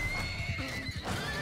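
A horse neighs in the middle of a battle in Mount and Blade II, a whinny rising over a dense, noisy battlefield din.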